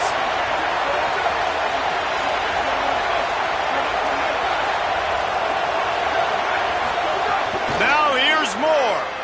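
A video game football stadium crowd roars loud and unbroken behind the defense on a big third down, a thick wash of cheering that swells slightly near the end, with no voices picked out.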